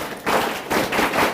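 A class applauds on request during a cost accounting lecture, with short bursts of broadband clapping that come in three quick waves of moderate loudness and no talking over them.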